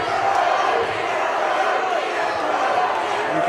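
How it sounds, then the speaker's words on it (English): Crowd at a boxing match roars steadily throughout, a dense continuous wall of cheering and shouting from the arena audience, with no distinct words spoken. "Crowd getting behind Brody Fulks here."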